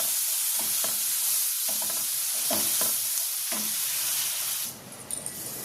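Chillies stirred in a hot pan with a spoonful of sugar and lemon juice, giving a steady sizzle broken by repeated scraping strokes of the spoon. The stirring stops near the end and leaves a quieter hiss.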